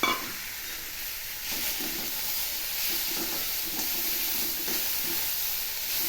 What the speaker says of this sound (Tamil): எண்ணெயில் ஒரு பிரட்டிட்டு நம்ம வேக வச்சுருக்கிற கொத்தரங்காயை